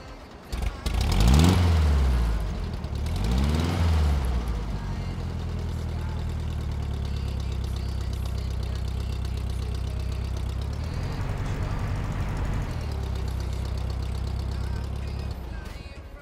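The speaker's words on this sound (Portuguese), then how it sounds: "Começando pelo som do de 1960, eu vou até aumentar o som aqui para vocês poderem apreciar o som" A 1960 Volkswagen Beetle engine runs in Farming Simulator 19, opening with two loud revving swells before settling into a steady, close, low idle that fills the rest of the time.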